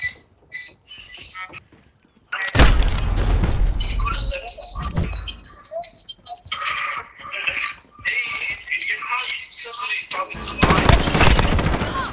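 Gunfire in Call of Duty Modern Warfare, loud bursts of automatic fire in several stretches, mixed with game music and chirping effects and with someone talking in places.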